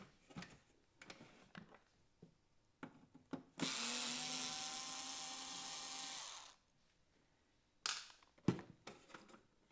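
Small screws being driven out of the front panel of a Philips DCC730 digital compact cassette deck: a three-second burst of a small electric screwdriver whirring steadily, framed by faint clicks and taps of handling, with no talk.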